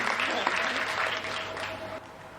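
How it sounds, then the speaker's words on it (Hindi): Listeners at a Hindi humorous poetry gathering applaud vigorously. The dense clapping holds steady for about two seconds, then drops off in level near the end. "एक बार जोरदार तालियां इनके लिए हो जाए मातृ शक्ति के रूप में।"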